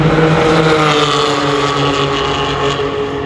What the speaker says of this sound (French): Donc voilà, une GT3 992 jaune